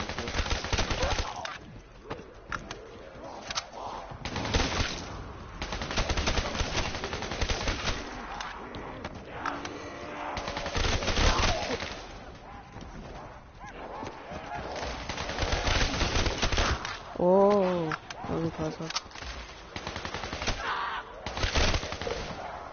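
Video game zombies mode gunfire crackles in repeated rapid bursts, loud and dense, with players talking between and over the shots and an odd honking tone near the end.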